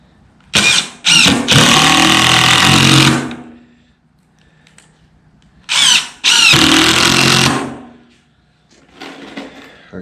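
Power screwdriver driving screws into a wooden rabbit nesting box, heard as two close, loud bursts of whirring motor and squealing wood, each lasting a couple of seconds, with quieter rustling between.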